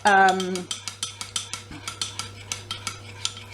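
A metal spoon clinks rhythmically against a bowl while glacé cherries are stirred into a chocolate mixture, about a dozen evenly spaced taps after a brief tonal ring at the start.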